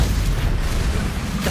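Confringo explosion spell from Hogwarts Legacy, a steady booming, rumbling blast that fills the whole short stretch with dense low-end noise, loud and close.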